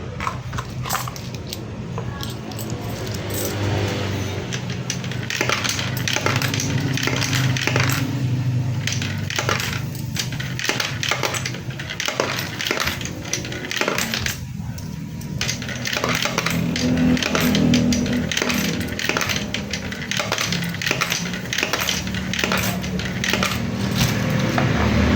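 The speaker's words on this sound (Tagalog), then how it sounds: "Dito na tayo maghuhulog ng barya." Coins clink and rattle as they are dropped one after another into a universal coin slot acceptor during calibration, a dense run of sharp metallic hits over a steady background hum with no talking.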